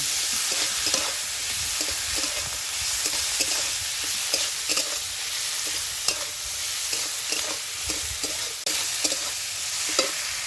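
Ginger, garlic, tomato and green chili stir-fry in a pan for masala chowmein, a constant close sizzle broken by regular scraping strokes of a spatula, no speech.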